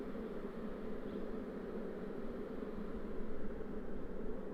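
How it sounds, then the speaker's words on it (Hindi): Mountain honey bees and drones from a swarm caught at height buzz in a dense, continuous drone, steady and fairly close, with no voices. "पहाड़ी मधुमक्खियों के कुछ ड्रोन भी है साथ में"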